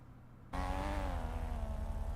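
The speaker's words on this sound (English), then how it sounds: "That truck sounds so weird" A truck engine in the Redline RP video game suddenly starts up and drones steadily, a loud, buzzy, oddly tonal hum that holds after an abrupt onset, with no talking.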